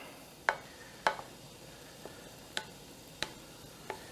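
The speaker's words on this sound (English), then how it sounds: "We'll finish mixing our topping up." Lasagna pie topping being mixed in a bowl in a home kitchen, with about seven sharp, spaced scrapes and taps of a utensil against the bowl over a quiet background.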